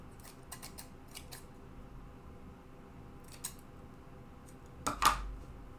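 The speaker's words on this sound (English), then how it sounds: "I'm just going to take my scissors and just go right along the edge and try to cut off all these little fabric tendrils" Scissors snip along the fabric edges of a no-sew Christmas ornament, trimming loose threads: a few quick close snips early, another short snip midway, and a louder clipped cut near the end over quiet room tone.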